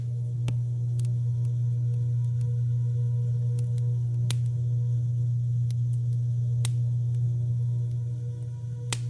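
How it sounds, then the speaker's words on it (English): A steady low electronic hum drones throughout, with occasional faint clicks and ticks scattered over it. "a low hum filled the room, like the sound of distant machinery grinding endlessly"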